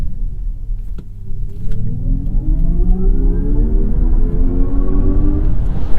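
A synthetic, futuristic tone rises in pitch like a siren as a car accelerates, swelling steadily over a low engine-like rumble.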